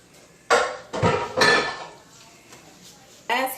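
Metal cooking pot clanks and scrapes as it is lifted and set aside on a kitchen surface, a few loud close knocks clustered together, then a softer clatter after a pause.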